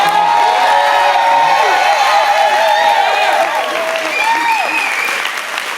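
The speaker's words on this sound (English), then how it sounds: "Y'all clap up them babies one more time." Audience applause and cheering for children at a Kwanzaa celebration, steady loud clapping with whoops and shouts running throughout, easing slightly toward the end.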